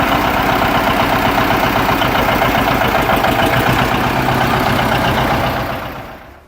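A John Deere 730 Diesel, a 1958 two-cylinder tractor, runs loud and close with a steady throbbing engine rumble before fading out at the end.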